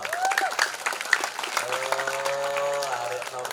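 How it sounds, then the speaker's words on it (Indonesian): A crowd at a Maulid Nabi celebration in a high school hall claps in a dense burst that fades after a second or so, and then a voice speaks. "Tepuk tangan untuk kita semua"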